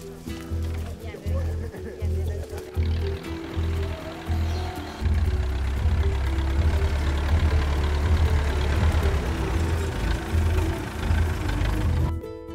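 A low tractor engine in Paraguay rumbles steadily, growing louder and heavier about halfway through, with voices talking over it throughout.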